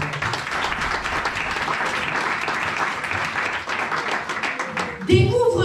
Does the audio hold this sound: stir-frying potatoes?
no